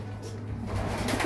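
Pigeons coo softly in a pigeon loft against a constant background hum and noise.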